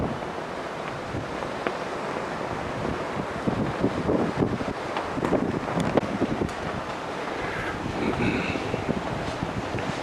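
Strong wind buffeting the microphone on a cruise ship's outer deck at sea approaching Oslo, gusty rumbling roars rising and falling over a steady wash of waves, loud and close, with no talk.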